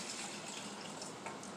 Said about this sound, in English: So now we're going to go ahead and add this beef broth.